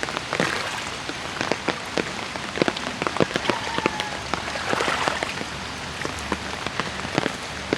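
Steady rain falls on surfaces nearby, a dense hiss dotted with sharp individual drops and splatters, continuous throughout with no voices.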